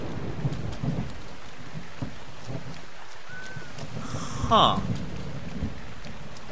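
Steady rain hisses through a thunderstorm in the video game Zelda: Breath of the Wild, with a sharp crack of thunder breaking out near the end; a voice gives a brief remark.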